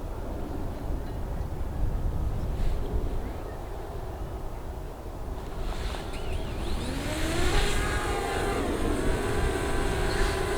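A DJI Mavic Mini drone takes off and flies, its steady whirring hum building into a higher, louder propeller whine about halfway through, heard nearby with no talking.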